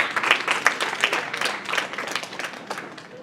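Audience applause at a UNDP project event celebrating an achievement: a dense patter of many hands clapping, steady at first and slowly thinning, heard from a distance with no voices on top.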